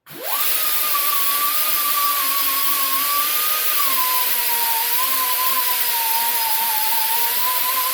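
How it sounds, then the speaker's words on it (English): A small high-speed die grinder opens up a radius on a steel steering box brace for a Jeep ZJ, spinning up sharply and whining loudly and continuously, its pitch dipping slightly under load. "So I'm going to have to go grab the zippy grinder and open up this radius here on both sides."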